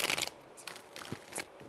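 Tarot cards being shuffled up close, a few quick papery riffles and rustles in short bursts, with brief pauses between, no voices.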